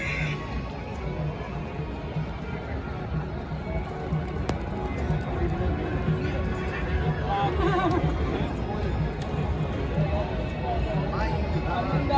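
Horses and young milk-teeth fillies at the 2024 Pushkar fair neigh and whinny repeatedly, with hooves clip-clopping and a steady crowd murmur and voices around them.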